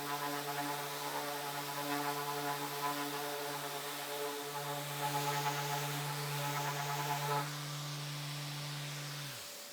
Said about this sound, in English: A palm sander will take care of it.